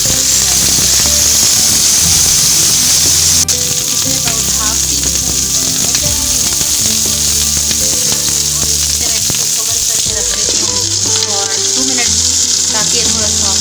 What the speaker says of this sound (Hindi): यहाँ तवे पे मैंने 2 टेबल स्पून ऑयल लिया और इसमें मैं एक गोभी ऐड कर